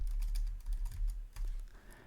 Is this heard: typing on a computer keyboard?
yes